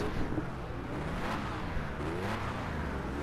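Race cars in a video game roar at the start of a race, engines droning steadily and revving with a whooshing pass, fairly loud and continuous with no voices.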